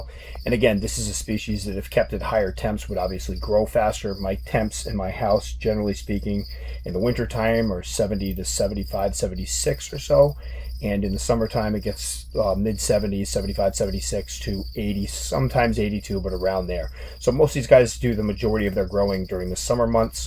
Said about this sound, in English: You can hear the crickets going nuts in the background.